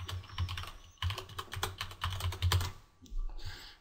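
Rapid typing on a computer keyboard, close and crisp, with bursts of keystrokes in quick runs, a brief pause near the end, then a final few taps, no voices.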